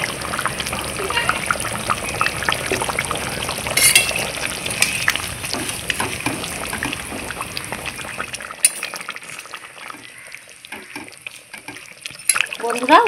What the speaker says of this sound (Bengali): খুব সুন্দর করে ফুটে গেছে, আলু সেদ্ধ হয়ে গেছে। এইবার আমি এক এক করে মাছগুলো ছেড়ে দিচ্ছি।